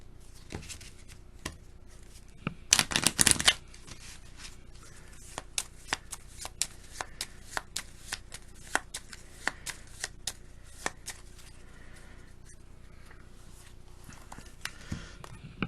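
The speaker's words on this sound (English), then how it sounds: "So we are going to shuffle this stack." A stack of symptom cards for the Bristol 1350 board game gets shuffled, with a dense, close riffling burst near the start followed by scattered crisp taps and clicks of cards being handled, quiet between them.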